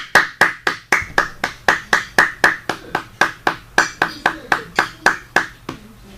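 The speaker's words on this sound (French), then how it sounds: "Elle mérite des applaudissements." About twenty sharp, evenly spaced claps from a single pair of hands ring out in a steady rhythm, close and distinct, with no voices.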